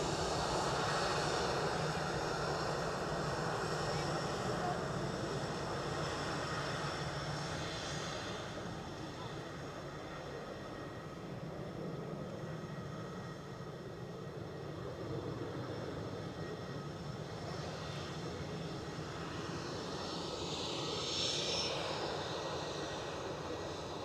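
EasyJet airliner passing at Edinburgh airport, a steady broad engine roar that holds at a fairly constant level throughout, with the swell of a passing jet and a voice talking underneath.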